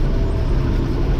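An Allis Chalmers 7060 tractor engine runs at about 1500 RPM in high second gear while pulling a planter through a field, a steady loud low drone heard up close.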